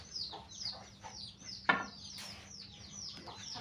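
Hens cluck and chatter softly in a backyard coop shared with ducks, a series of short, faint calls with one sharper squawk midway, fairly close with light background noise.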